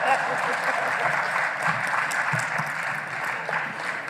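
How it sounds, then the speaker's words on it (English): An audience applauding the CEO of the electoral commission at a media briefing: sustained, even clapping from a roomful of people, moderately loud and continuous, with faint voices mixed in. "We have clapped for the CEO on the eve of the 29th of May."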